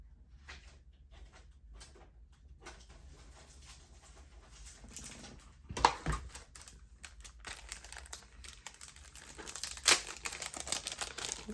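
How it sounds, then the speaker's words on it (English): A package of cold pressed watercolor paper is handled, giving quiet crinkling and rustling with scattered soft taps and a few sharper crackles, close and fairly faint, with no talking. "Here I have a package of the watercolor paper."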